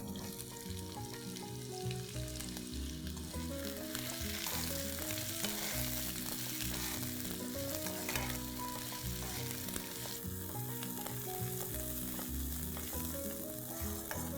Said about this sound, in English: once the oil and ghee is hot, I'm going to add this and I'm going to fry them nice and brown in color